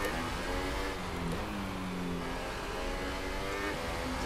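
A Formula 1 car engine in the F1 2018 racing game holds a steady high drone, with pitch glides marking upshifts, continuous and fairly loud without talk.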